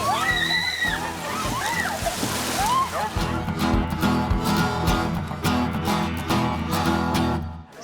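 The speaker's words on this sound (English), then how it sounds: "This year we had about 130 plungers come in and bravely jump into the water today" Water sloshing and splattering at a polar plunge into icy Lake Wallenpaupack in the Pocono Mountains in January, as people jump in; steady churning splashes run throughout, with voices talking and calling over them.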